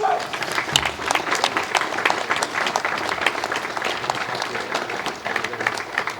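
Audience applause at a Veterans Day event in a high school in Walker County, Georgia, honoring a lieutenant colonel: steady, dense clapping from a sizable crowd sustained for several seconds without talk.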